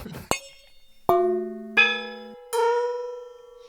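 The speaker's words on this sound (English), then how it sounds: "We're just like slowly reinventing the gong." An improvised gong built from baby toys hung on string rings out in four separate struck tones, each a bright metallic clang with long shimmering sustain that overlaps the next, clear and close.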